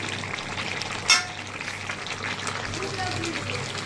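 Chicken with salt, turmeric, chili, coriander and other ground spices fries in a pan, a continuous close sizzle with one sharp clank of a utensil early on.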